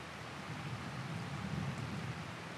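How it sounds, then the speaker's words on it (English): Steady rain falling in a farming video game, a dense, even hiss of downpour that holds at a constant level throughout, with no voices. "I knew we were going to get some rain this time"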